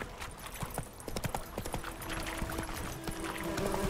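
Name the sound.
horse Roach trotting in The Witcher 3 video game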